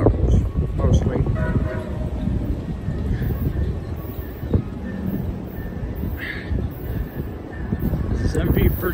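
A MARC commuter train led by an MP36 locomotive rumbles past steadily with broad roaring noise and wind buffeting, rail clatter underneath and brief higher squeals along the way.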